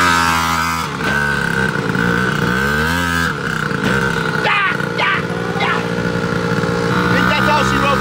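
Dirt bike engine starting up roughly in the woods, then running loud and close with uneven revving and sputter, with a voice talking over it.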